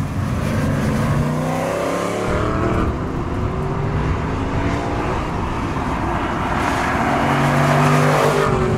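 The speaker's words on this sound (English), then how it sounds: "The engine is not the last word in sophistication, it must be said, but it makes a lovely, throaty," An Aston Martin V8 Vantage N430 with a manual gearbox, its throaty V8 engine revving loud and close, with a clear dip around a gear change before the engine pulls hard again.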